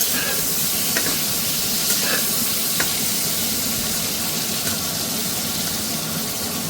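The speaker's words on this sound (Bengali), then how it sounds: "সেই জন্য হাই আছে দিয়েই বেগুনগুলো ভেজে নেবো" Thin-sliced eggplant deep-fries in oil over high heat: a loud, continuous, dense sizzle and hiss fills the whole stretch, broken now and then by faint spatter pops.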